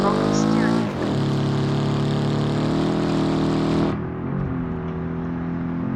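An off-road sports car with broken steering drives in the BeamNG Drive video game, its engine holding a steady harmonic drone, then dropping in pitch and easing near the end, with someone talking over it.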